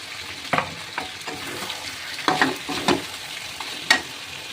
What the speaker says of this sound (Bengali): পেস্টটা এবার এর মধ্যে আমি ঢেলে দেবো। মাংসটা নামাবো না, এর মধ্যে দিয়ে আমি একেবারে একটু কষিয়ে নেব।